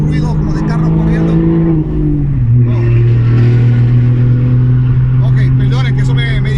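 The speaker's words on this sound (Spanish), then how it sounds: "oigo un ruido como de carros corriendo" Cars race by with a loud, continuous engine drone that drops in pitch partway through, then holds steady as a strong rumble.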